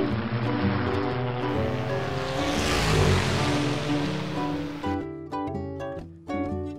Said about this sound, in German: Auf der Straße vor den Häusern fahren jeden Tag ganz viele Autos, Motorräder, Busse und Lastwagen.